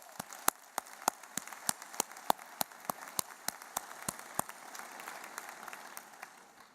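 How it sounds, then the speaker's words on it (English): Scattered, crisp hand claps from a modest crowd at a 2018 high school graduation ceremony, a dozen or so distinct claps in the first few seconds before thinning into a faint, dispersed patter. "Let's give them a round of applause for all of their support."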